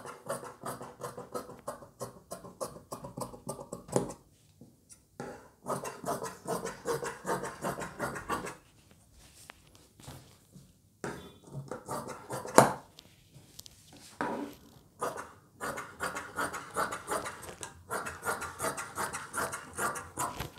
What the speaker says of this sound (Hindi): देखिए अब मैं किस तरह से कटिंग कर रहा हूँ